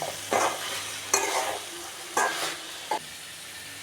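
Green beans stir-fry frying in a pan and being turned over, with a soft sizzle broken by several distinct scraping stirs at irregular intervals, close and fairly quiet.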